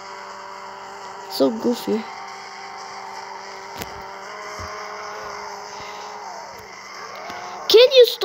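Car engine revving and tires sliding through a goofy drift in Extreme Car Driving Simulator, a steady game engine drone that bends in pitch near the end, with a voice talking over it throughout.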